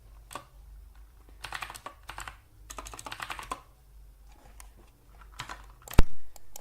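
Typing on a computer keyboard while entering a passwd command and username during an Arch Linux install: a few scattered clicks, then bursts of quick keystrokes at close range, with one sharper keypress near the end, no talking.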